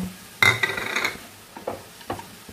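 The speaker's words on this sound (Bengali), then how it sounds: "সব শুদ্ধ এবার নাড়বো।" A carrot kalakand mixture with cashew nuts is stirred in a pan, a burst of scraping and clattering of the spoon against metal followed by a few shorter scrapes, close and moderately loud.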